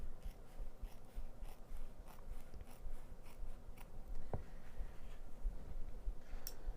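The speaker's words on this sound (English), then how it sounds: "take the duckbill scissors, and I'm going to cut one of the seams in half" Duckbill scissors trim a sewn fabric seam down to a quarter inch, giving quiet, repeated snipping and rubbing sounds in an indoor sewing setting.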